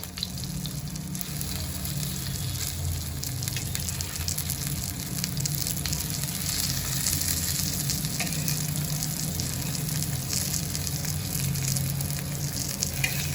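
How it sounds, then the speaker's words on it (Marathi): Halwa (pomfret) fish pan-fries Agri Koli style over medium heat, producing a dense, continuous sizzle that holds at an even level for over ten seconds. "तर सर्व मच्छींना मी दुसऱ्या बाजूनी चांगलं तळून घेते सर्व बाजूनी मी तळून घेणार आहे आलटी पलटी मारून"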